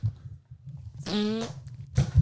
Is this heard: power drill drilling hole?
no